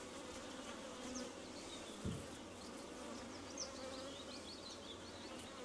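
Honeybees buzz in a low, continuous hum around a hive, with occasional individual bees zipping past close by.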